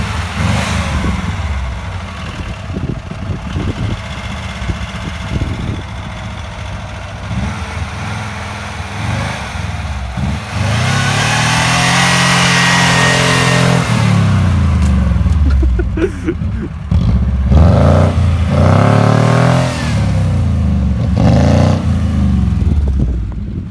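A LuAZ off-road vehicle's engine idles and then revs repeatedly during off-road driving, its pitch climbing and falling in loud surges up close.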